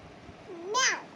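A voices a short, rising-and-falling imitation of a cat's meow during a picture-book animal naming game at home, a single clear cry following quiet background.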